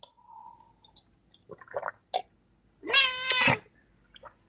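A cat meows a few times close by, with short chirps before a longer, drawn-out meow near the end; quiet room otherwise.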